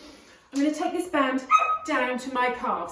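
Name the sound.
dogs whimpering and barking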